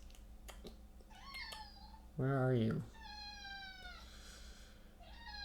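A young male kitten meows repeatedly indoors at night, several drawn-out calls close to the listener, with a person speaking softly between them.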